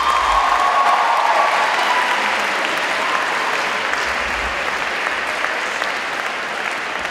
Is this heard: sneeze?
no